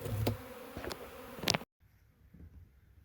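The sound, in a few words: caught bee swarm buzzing in a swarm trap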